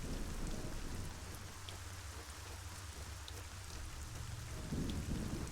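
Steady heavy rain with rolling thunder in the fantasy video game Arcania Gothic 4, a continuous loud downpour with low rumbles swelling at the start and end, no voices.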